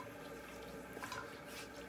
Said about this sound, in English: I'm just gonna add a little bit of water